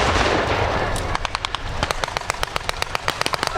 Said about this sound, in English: And more artillery support coming in there.